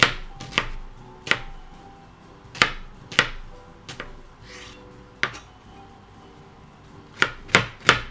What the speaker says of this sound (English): Try not to close your eyes while you're chopping onions.